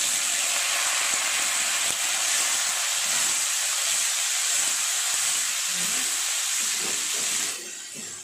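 Chopped tomato pieces sizzling in a hot pan while cooking coriander pachadi, giving a loud, steady hiss with small crackles throughout that drops off slightly near the end.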